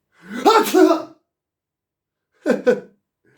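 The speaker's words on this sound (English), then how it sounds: "I sneezed." One loud, close sneeze, then after a pause a second, shorter sneeze-like burst, with silence between them.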